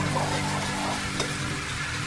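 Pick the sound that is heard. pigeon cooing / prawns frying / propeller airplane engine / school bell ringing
prawns frying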